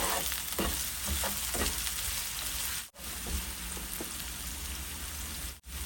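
Vermicelli with onion being lightly sautéed in a pan, a dense, continuous close sizzle and hiss with faint scraping stirs, briefly dropping out twice.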